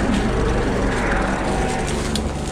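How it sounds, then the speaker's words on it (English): A helicopter flies overhead outside an old orchard, its engine and rotor making a steady, moderately loud drone with no talking. "There's that chopper again from earlier."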